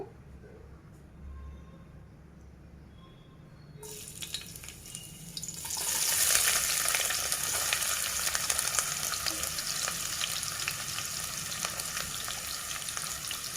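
Onions tossed into well-heated oil for a dried mutton curry burst into a loud, steady sizzle partway through, after a quieter stretch, and keep crackling continuously to the end.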